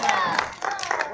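Brief burst of clapping from an audience applauding a teacher at a campfire gathering, scattered hands clapping briefly over a few claps, with a voice speaking over them.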